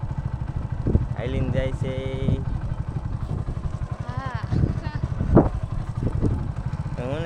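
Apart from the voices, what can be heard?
Honda motorcycle riding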